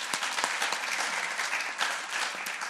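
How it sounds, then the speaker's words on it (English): Steady applause from a church congregation after a sermon, a dense wash of clapping hands with a few sharper claps standing out, sustained and fairly close throughout. "Why don't you give them a round of applause,"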